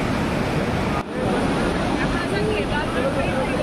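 Hot spring water pours out continuously at Manikaran Sahib Gurudwara beside the Parvati river, a loud, steady rushing wash with a brief dip near the start.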